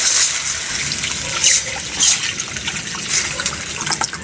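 Water splashes and gurgles as it is poured into a cooking pot over tomato sauce, loud and close, with a few stronger surges.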